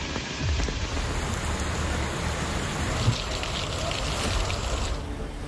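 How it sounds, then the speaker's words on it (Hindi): Monsoon rain falls steadily in Noida, a continuous hiss of drops striking surfaces with occasional louder splashes, no voices. "मानसून जब पलट कर आया तो पहली ही बारिश में नोएडा को पानी की अच्छी सौगात दे गया।"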